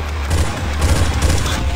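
Counter-Strike: Source Zombie Escape gunfire, a dense and steady barrage of rapid automatic shots from several weapons at once, loud and close, with no pauses and no voices.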